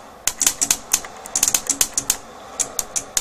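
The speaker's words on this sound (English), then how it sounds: "You can hear the relay selecting the transformer taps clicking in and out there." Rapid, irregular clicking of a relay switching transformer taps in a Korad power supply, a dozen or more sharp clicks in quick succession, close and distinct.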